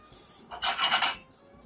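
Pearl barley toasting in a hot pan for risotto, a short dry sizzling rasp that swells for about half a second and fades, close and fairly quiet.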